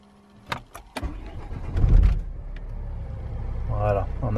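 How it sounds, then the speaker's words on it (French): A Renault Vel Satis engine cranks and catches, settling into an idle after a few clunks and clicks inside the car, moderately loud and close. "je vais démarrer la voiture"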